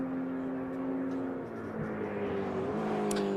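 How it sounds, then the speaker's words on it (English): The Cole Trickle race car passes at Road Atlanta during a SpeedTour event, a steady engine drone with a faint higher whine, with no talk in this stretch. "There goes the Cole Trickle car."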